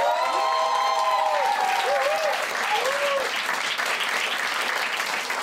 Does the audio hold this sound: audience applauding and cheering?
yes